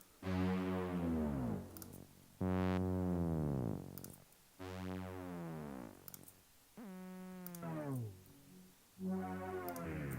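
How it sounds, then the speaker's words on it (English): Several sustained chords from layered Omnisphere synthesizer presets, each swelling in and gliding, with bright rich harmonics and pauses between phrases; no voices. "this is just a bunch of presets in Omnisphere."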